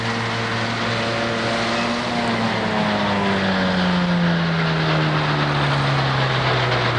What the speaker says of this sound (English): Mower at work there.